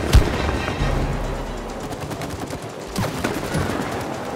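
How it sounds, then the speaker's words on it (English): Rapid video game gunfire sounds while flying in It Takes Two, a loud burst at the start followed by continuous rattling shots that fade and then pick up again near the end. "Oh, we're flying and shooting. We are sliding and shooting, people."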